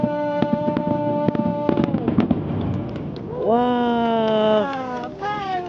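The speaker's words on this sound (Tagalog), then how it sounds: "Wow! Fireworks!" Fireworks bursting over Tokyo DisneySea, a rapid string of sharp pops and bangs that gives way to excited voices cheering and talking loudly.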